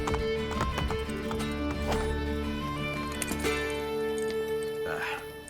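Horse hooves clip-clopping in the video game Assassin's Creed Brotherhood, a steady rhythmic trot under layered game music and ambience, with a short whinny near the end.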